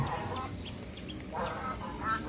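Chinese geese kept on a farm give several short nasal honks and calls in quick succession, moderately close over a faint background.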